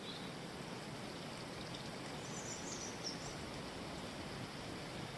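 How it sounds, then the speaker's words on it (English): Soft, steady rush of flowing water, with a faint bird call briefly above it; no voices. "And the sound of that water."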